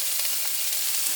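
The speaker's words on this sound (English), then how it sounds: "I'm going to go ahead and add the onions and the curry leaves. Once they're added, I'm going to give it a good stir" Onions and curry leaves sizzle and hiss in a hot pan while being stirred, a dense, bright, continuous crackle with faint scraping accents and no talking.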